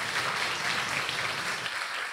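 A church young adults' worship gathering breaks into warm, continuous applause from the audience, a dense steady patter of many hands clapping at fairly close range with no talk over it.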